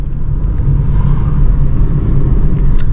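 Inside a car driving in traffic, the engine gives a low, steady rumble in third gear while overtaking a bus, strong and close, with light road noise and no talk.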